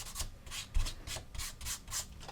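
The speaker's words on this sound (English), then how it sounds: "arbitrary rub across with a sanding stick" Sanding stick rubbed back and forth across the joint faces of a plastic tiger tank model kit, a dry rasping scrape repeating in about eight quick strokes, close and steady with no talking.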